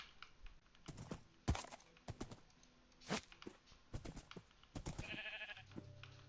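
A sheep bleats in a video game, a brief wavering cry near the end, amid sharp scattered clicks like keyboard typing and other faint game sounds.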